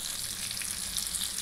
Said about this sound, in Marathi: आता पुन्हा आपण ते पण आपण तळून घेऊया.